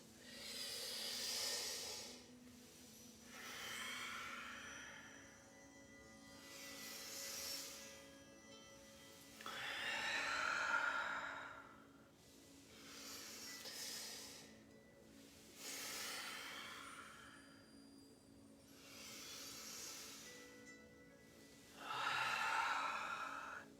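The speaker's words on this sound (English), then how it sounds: "Few more breaths." Slow deep breaths during a breathing exercise, about six long airy inhales and exhales in a regular rhythm, close and fairly soft, separated by quiet pauses.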